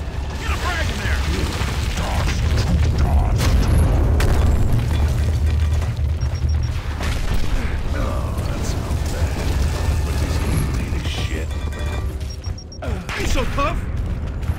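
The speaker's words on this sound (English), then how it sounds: "Grab hole! Get a frag in there!" Frag grenade blast in Gears of War Ultimate Edition on Insane mode, a deep booming burst amid a dense, loud mix of combat noise, mechanical clatter and rumble, with a voice talking over the action.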